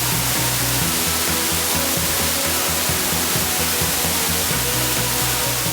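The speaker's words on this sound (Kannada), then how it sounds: "ಬೆಟ್ಟಗುಡ್ಡಗಳ ಮಧ್ಯೆ ಹರಿದು ಬರುವ ಜಲಧಾರೆ ಕಣ್ತುಂಬಿಕೊಳ್ಳಲು ಚಿಕ್ಕಲೆ ಫಾಲ್ಸ್ ಕೈಬೀಸಿ ಕರೆಯುತ್ತಿದೆ" Chikhale Falls, a waterfall pouring between hills, gives off a dense, unbroken roar of rushing water that stays loud and even throughout, with no voices.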